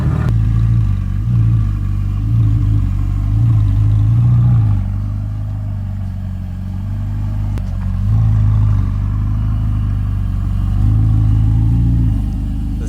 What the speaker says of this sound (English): But it's got a nice loud cold start.